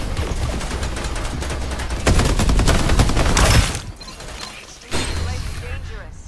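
Rapid bursts of automatic gunfire in the Farlight 84 battle royale video game, loud crackling volleys broken by brief pauses, with a player talking over them.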